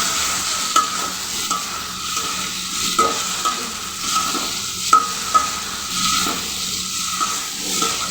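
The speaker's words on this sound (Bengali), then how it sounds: "আলুগুলা মশলার সাথে ভালো করে কষিয়ে তারপরে এটাতে ঝোল দিয়ে দিব" Potatoes fry with spices in a pan while being stirred, a loud continuous sizzle broken by repeated scraping strokes of a spoon against the pan, no speech.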